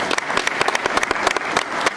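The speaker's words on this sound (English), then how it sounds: "Let's give them a hand of applause" Audience applause after two young people stand for recognition at a community conference, a dense burst of many hands clapping close and loud for two seconds with no talk over it.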